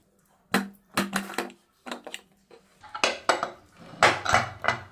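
A pressure cooker that has just given three whistles on a stove is opened after cooking rice and lentils for kaara pongal. The metal lid, pot and utensils clink and clatter in sharp bursts, close and alone.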